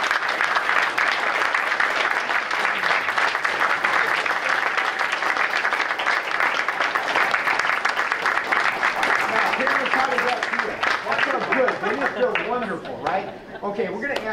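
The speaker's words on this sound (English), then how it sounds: "let us give you a round of applause" Audience at a school board meeting applauding the parents of honored students, a long, steady burst of clapping that thins toward the end as voices begin talking over it.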